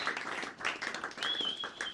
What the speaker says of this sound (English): can we give Ed a massive round of applause as well